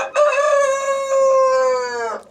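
A rooster crows once, close and loud, a single sustained call lasting about two seconds before breaking off.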